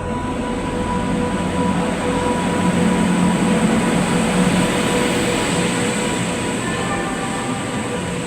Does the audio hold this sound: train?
yes